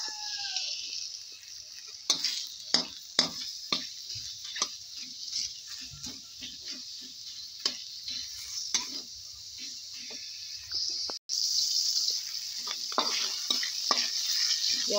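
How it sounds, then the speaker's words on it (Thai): Pork belly fries in a pan for a Thai curry. There is a low crackling sizzle with sharp spoon taps and scrapes at irregular intervals, and the sizzle swells louder near the end. "เราก็จะนำหมูนะคะหมู3ชั้นของเราไปเจียวค่ะ"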